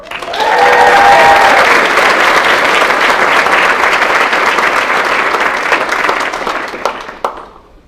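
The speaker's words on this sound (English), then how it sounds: "one more huge round of applause for the DPT class" Applause from a large crowd at a graduation ceremony for a DPT class swells loudly, holds as dense sustained clapping for several seconds, then thins out with a few last claps.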